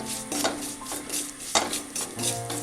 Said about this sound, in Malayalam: ഇത്രയും സാധനങ്ങൾ ഒന്ന് വഴറ്റിയെടുക്കണം